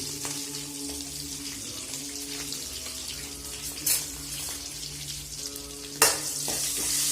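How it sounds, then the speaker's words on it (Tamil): Green chilies, curry leaves and asafoetida fry in oil for sambar, a steady close sizzle with scraping stir movements and two sharp splattering bursts. "இங்கே 2 பச்சை மிளகாய் எடுத்திருக்கேன், அதையும் போட்டுக்கோங்க. கொஞ்சமாக கருவேப்பிலை போட்டதுக்கப்புறமா கொஞ்சமாக பெருங்காயம்,"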